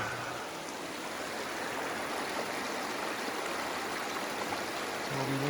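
A clear creek flows beside a campsite, a steady, close rushing and burbling of water that holds even in level for the whole stretch with no voices.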